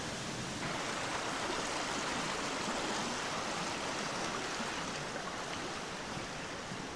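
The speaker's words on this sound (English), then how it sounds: "This is the site of another two streams coming together." Two streams meeting on a valley walk, a steady broadband rush of flowing water heard close and continuous with no voices.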